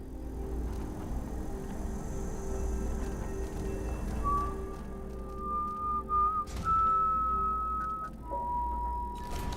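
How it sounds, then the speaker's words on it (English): A character whistles a sustained, wavering tune in Dishonored 2, clear and fairly close over a low ambient hum, with faint background game sounds. "I'm gonna have to ask you to refrain from whistling in my ear like that."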